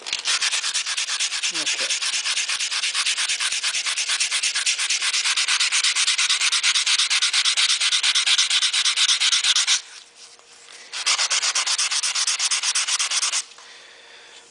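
Stainless steel car trim being hand sanded with 150 grit paper, a loud, fast, continuous rasping rub up close, pausing briefly before resuming and stopping near the end, with a single short spoken word.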